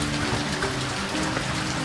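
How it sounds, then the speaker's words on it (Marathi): Heavy rain drums steadily on a tin-roofed shed, a dense, continuous close-up patter with no break across the moment. "चांगलाच पाऊस आलाय आणि आपल्याला गावलाय बाबा निवारा इथं"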